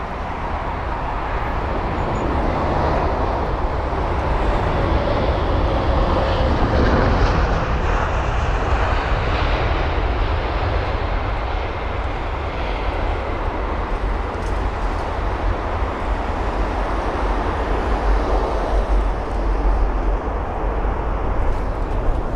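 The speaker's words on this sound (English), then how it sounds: "So a really nice landing there." Jet engine roar of a Qatar Boeing 777F freighter landing at London Heathrow, a loud continuous broadband rumble that holds steady throughout.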